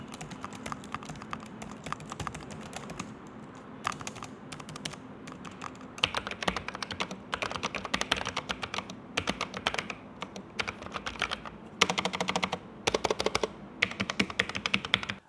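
Rapid typing on two Logitech keyboards, one with mechanical keys and one with standard keys, heard as dense bursts of clicky keystrokes with short pauses between runs, close up and with no talking.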